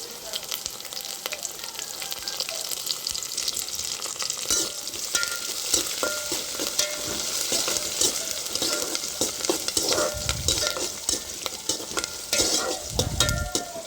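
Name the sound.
curry leaves sizzling in tempering for potato curry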